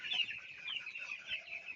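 Native desi chickens kept beside a house cluck nearby in a steady run of calls and soft squawks, with no voices present.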